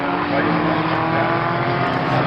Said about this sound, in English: Sunny out, and the car spins, and he's going into the field now